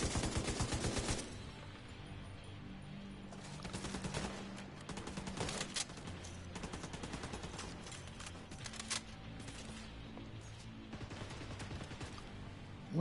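Rapid gunfire in The Division 2 game, with clustered bursts and single shots crackling throughout against a steady background of in-game noise, loud and close, with no voices.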